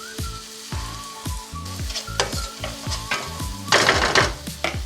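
Onions fry in a pan for a paneer masala, a constant sizzle broken by repeated rhythmic scrapes and knocks of a spoon stirring, loud and close, with no voices.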